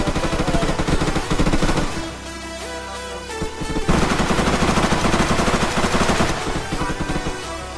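Rapid automatic gunfire bursts in an ER:LC Roblox roleplay game, loud and dense sustained volleys with a short lull in the middle before heavy firing resumes.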